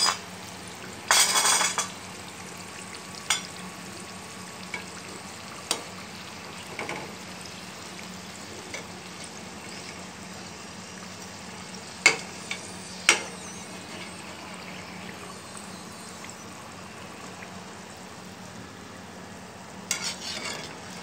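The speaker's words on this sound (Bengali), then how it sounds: "তো পুরিগুলো আমি ভেজে নেব এইভাবে করে" Puris deep-fry in hot oil on a stove, a low steady sizzle broken by occasional sharp clinks of utensils against the pan across a quiet stretch.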